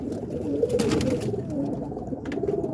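Pet roller pigeons in a backyard coop in Boston, Massachusetts, soft close cooing in low rolling murmurs, several calls overlapping with faint background noise.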